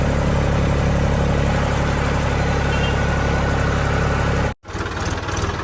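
A tractor engine idles at a grain market, a loud, steady low rumble that fills the space close by, briefly cutting out near the end before the throbbing resumes.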